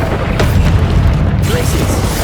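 Expelliarmus, the disarming spell from Hogwarts Legacy, goes off as a loud, booming magical burst with a rushing whoosh, followed by a second softer surge within a dense, continuous layer of game sound.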